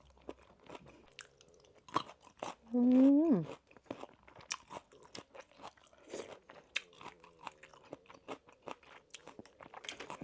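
Crunchy, crispy food chewed close to the microphone in a restaurant in France, a long run of sharp rhythmic crunches with a short hummed voice sound partway through.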